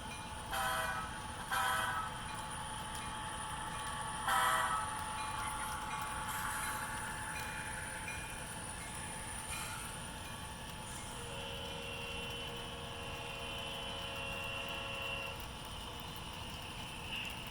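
Model locomotives, an SD60F, an E7 and a GP-40, run together on a layout track with a faint steady hum and light rolling noise, with a few short horn-like toots near the start.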